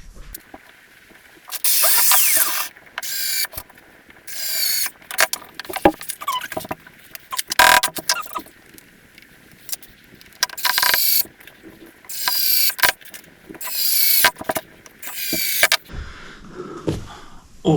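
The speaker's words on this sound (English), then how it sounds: "So let's screw these on" Acoustic panels screwed onto a studio wall, with repeated bursts of a power driver whirring and ratcheting, separated by short pauses and small handling clicks, close and fairly loud, no talking.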